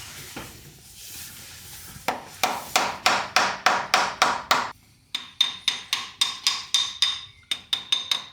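A hammer strikes a homemade exhaust flange during JZX100 clutch work, ringing metallic blows in quick steady runs of about a dozen, close and loud, with a brief pause midway.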